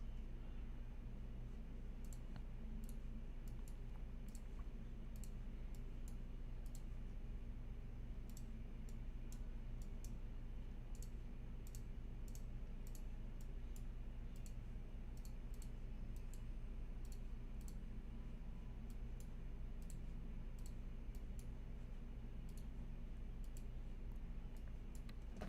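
A computer mouse clicks over and over in irregular bursts while a scenario editor is in use, with light, faint clicks over a constant low electronic hum.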